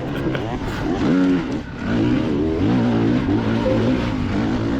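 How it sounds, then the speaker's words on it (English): A race car engine revs and drones with rising and falling pitch, loud and close, in heavy dust, while people talk over it throughout. "Getting real close and then you start revving."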